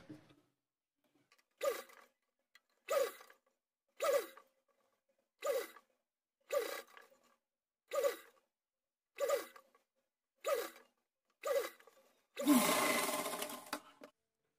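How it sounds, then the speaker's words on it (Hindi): Sewing machine stitching along the folded edge of fabric for a small deity outfit, heard as about ten short separate bursts of whirring, each under a second, then a longer, louder run at the end, with no talking. "यहाँ किनारे किनारे पर हम सिलाई इसमें लगा देंगे"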